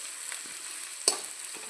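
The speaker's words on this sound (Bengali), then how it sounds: "পেঁয়াজটা মোটামুটি ভাজা হয়ে গেছে।" Onions fry in a pan for chicken curry, a soft steady sizzle with light scraping stirs and one sharper clink of the utensil against the pan.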